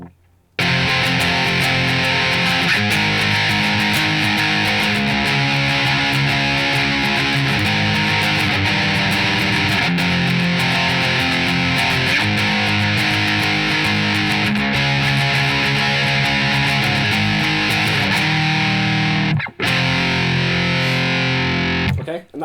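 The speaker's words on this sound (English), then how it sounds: "the main riff that plays sounds like this." Distorted electric guitar plays the main riff of a song, with steady, loud palm-muted and barred power-chord patterns running continuously for about twenty seconds before a brief break near the end, with no talking over it.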